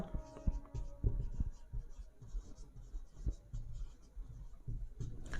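Chalk or pen writes out given data in a physics lesson, steady scratchy strokes with small taps, under light background noise and no clear talk.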